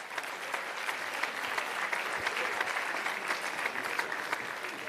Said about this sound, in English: Let's give a great round of applause to Modi.